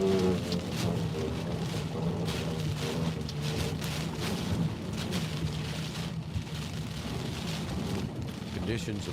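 Heavy rain from Hurricane Ida pours down in a dense, unbroken roar with gusting wind, loud and steady throughout, while a voice talks faintly underneath.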